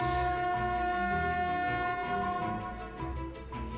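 A narrow-gauge express train rolls into Dresden station with a low rumble and a sustained tonal whine, its horn briefly sounding at the start.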